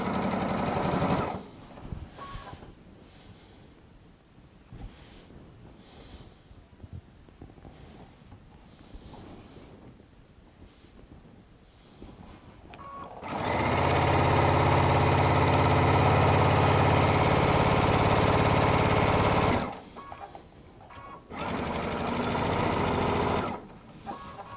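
A sewing machine stitches quilt seams in a Tula Pink charms-and-strips quilt, running in two steady, loud, whirring bursts separated by a short pause, after a stretch of quieter handling.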